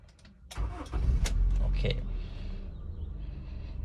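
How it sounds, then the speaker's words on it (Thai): Honda Civic 'Ta Yiew' sedan engine cranking with a few sharp clicks, catching and revving, then settling into a smooth steady idle, close by. "เดี๋ยวลองฟัง เสียงเครื่อง กันนะครับ"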